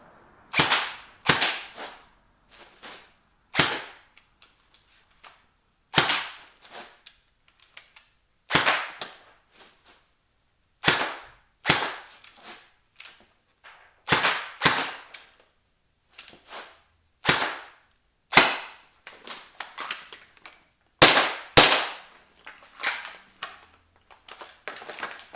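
An airsoft gun fires during beginner practice drills, giving sharp close cracks that come singly, in pairs and in quick clusters, separated by pauses, over about twenty-five seconds without talk.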